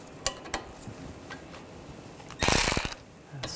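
Metallic ratcheting of a wrench snugging a nut during a front right CV axle replacement on a 2009-2010 BMW 535i xDrive, a few light clicks then a loud dense burst of ratchet clatter, no voices.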